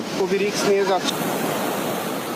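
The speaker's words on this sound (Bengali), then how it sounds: "খোয়াই নদীর জালালাবাদ এলাকায় বাঁধের ভাঙা অংশ দিয়ে হুহু করে লোকালয়ে পানি ঢুকছে" Floodwater pours through a broken embankment of the Khowai River into a settled area in Habiganj, a steady roaring rush close by, with a voice talking over it briefly at the start.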